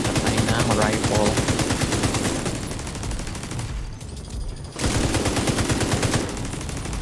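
Rifle gunfire in the shooter game The Division 2: dense, loud rapid shots in sustained bursts with a brief pause midway before firing resumes, dominating the mix.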